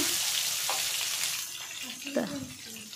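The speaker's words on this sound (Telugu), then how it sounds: "ఫస్ట్ ఆయిల్ వేసి జీలకర్ర వేసా, తర్వాత కొంచెం తాలింపు గింజలు ఆనియన్స్ వేసా" Oil sizzles steadily in a pan with a soft crackle as onions and cumin seeds fry, broken by a few scraping stirs and light clinks near the end.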